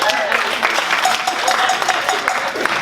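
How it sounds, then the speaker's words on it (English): An audience applauds at the close of a talk at a Well Beyond summit on cities, a steady, dense wash of clapping that fills the room without a break. "let's give these guys a round of applause"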